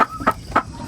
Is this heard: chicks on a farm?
yes